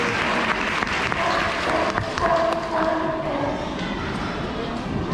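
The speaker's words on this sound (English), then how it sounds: "do you give them both a big round of applause?" An audience applauds steadily, a dense wash of clapping that holds at an even level throughout.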